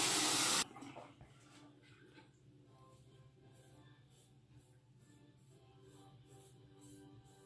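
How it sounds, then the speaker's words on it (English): A razor is rinsed under a running tap, giving a steady soft hiss of flowing water. A brief loud burst opens it, then the water runs on evenly at moderate level with faint clinks. "Let me rinse the razor."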